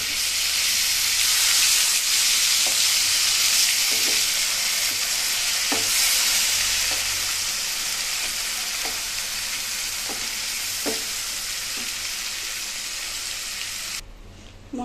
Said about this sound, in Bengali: মশলাটাকে এখন আমি সুন্দর করে কষে নেব